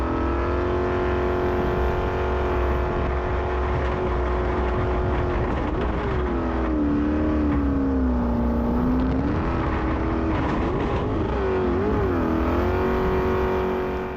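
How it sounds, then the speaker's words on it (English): V8 race car with a Shelby flat-plane crankshaft engine, a loud, sustained high-pitched engine drone that rises and falls in pitch as it revs through gears, continuous throughout with no talking. "FX Evo entry is definitely a V8, but the sound it makes would have you think otherwise"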